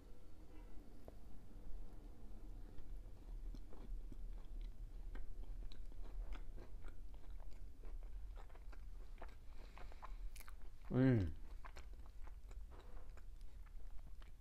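Someone chews a soft Crumbl hummingbird cake cookie topped with frosting and pecans, with faint, close mouth sounds and soft crunches over a quiet background. One louder bite lands near the end. There is no talking.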